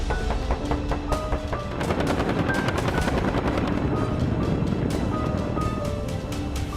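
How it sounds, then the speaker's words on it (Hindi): Apache AH-64E attack helicopter firing its gun, with dense rapid bursts of gunfire over a steady loud rotor and engine roar throughout. "अपाचे AH-64E दुनिया का सबसे आधुनिक अटैक हेलीकॉप्टर।"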